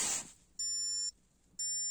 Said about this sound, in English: 2 beeps to say we're in key delete mode.